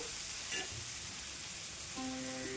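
Tomato, onion and capsicum sautéing in a pan with ginger, garlic and green chilli: a steady, close hiss and crackle of frying that carries evenly throughout, with a faint clink partway and no voices.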